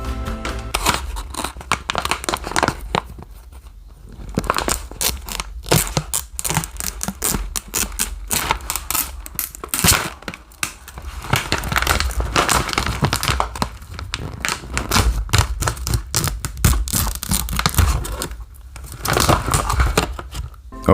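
A bag of Don Pablo Signature Roast coffee beans is torn open, with loud, continuous crinkling and ripping of the packaging close up for about twenty seconds, no talking.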